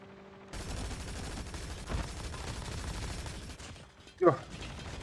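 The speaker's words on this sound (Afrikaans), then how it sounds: "Hier skote is wat nou geskiet word hierso" Gunfire in a competitive video game scrim match: dense bursts of rapid shots roll on under a commentator's voice, with a louder burst near the end.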